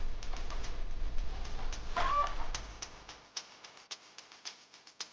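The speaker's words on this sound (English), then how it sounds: "Chickens are birds that lay eggs and love to peck at the ground." Farm chickens cluck and call repeatedly under steady background noise, then the noise drops away and sharp, scattered taps and pecks come through alone.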